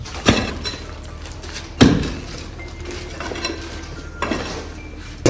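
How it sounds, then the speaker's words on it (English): A hammer taps tiles during a structural inspection, three sharp, distinct clinking knocks spaced about two seconds apart over a faint background hum, with no voices. "And then also use the hammer to check."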